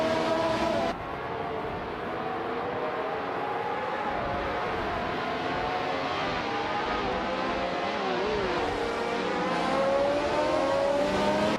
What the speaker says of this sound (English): Adenat 44 is driving a 1971 McLaren M19A